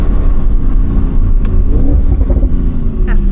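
A 2017 Audi RS6 C7 with quattro drive revs its engine, a dense, continuous low rumble that swells and holds steady throughout, close and loud.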